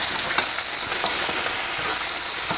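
Small shrimp fry in hot oil in a pan with a constant close hiss and crackle, and faint stirring scrapes run through the sizzling.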